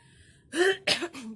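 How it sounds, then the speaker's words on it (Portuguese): Two short, close coughs from a woman with an allergy, harsh breathy bursts a moment apart with a slight voiced tail, quiet background before them. "Tossindo um pouco."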